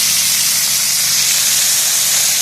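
Oyster sauce sizzles as it hits a hot pan during Thai stir-fry cooking, a loud, steady hiss that stays even throughout, with no voices over it.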